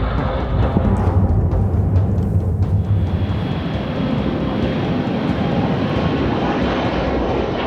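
Jeju Air passenger airplane flying low on approach to Muan Airport, a loud, steady engine roar filling the whole stretch without a break.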